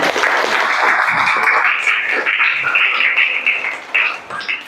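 Classroom applause during a teacher's lesson, a steady continuous clapping that fills the clip, fairly close and loud, with no talk over it.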